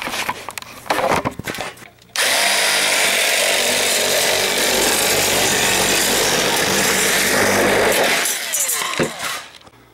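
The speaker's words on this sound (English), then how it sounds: "I'm gonna cut this back with my nifty cutters here." Steel being cut back with hand-held cutters while fitting an aluminum evaporator coil, a loud continuous harsh grinding-cutting noise lasting several seconds after a few short scraping bursts, then tapering off.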